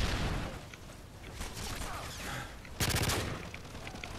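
Light machine gun fired from the hip in Call of Duty MW3, bursts of rapid gunfire rattling across the clip with a sharper, louder volley near the end.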